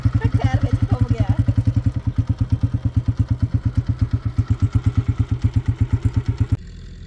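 A motorcycle engine stuck in the Indus (Sindh) river water near Layyah idles loudly and close in a steady, rapid thumping putter for several seconds, then cuts out abruptly near the end.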